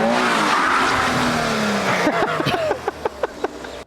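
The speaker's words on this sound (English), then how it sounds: "we're going to bring up the two versions of Jacob's drift attempt" Car drifting with a handbrake pull, a loud close tire squeal with engine roar sliding down in pitch, then a series of sharp rhythmic bursts as the car settles.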